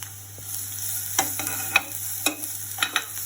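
Onions sauté in a pan for spring rolls, a low steady sizzle with a low hum underneath, broken by several sharp spatula scrapes and knocks at uneven intervals, close and without talk.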